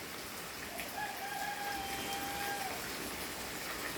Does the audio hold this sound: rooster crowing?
yes